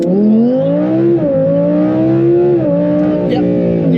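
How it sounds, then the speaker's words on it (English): An Audi R8 V10 Plus fitted with an aftermarket exhaust launches hard off the line on a wet surface, its loud, steady engine roar rising in pitch through the gears with tire squeal mixed in; someone talks over it. "You could hear it that time off the line squealing."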